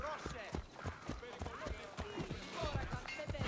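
Horse hooves clip-clop at a steady trotting rhythm in Assassin's Creed Odyssey, close and moderately loud, with game voices and ambience mixed underneath.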